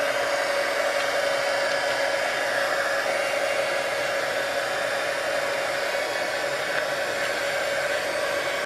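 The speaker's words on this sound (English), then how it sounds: "Let me try this heat gun." A heat gun blows hot air over alcohol inks on vellum paper, a constant loud whooshing drone held steady from start to finish with no voices.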